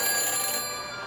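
In Back to the Future: The Game, a telephone rings after a number is dialed. A single electronic ring is heard close up, loud and bright, then fading away with no speech over it.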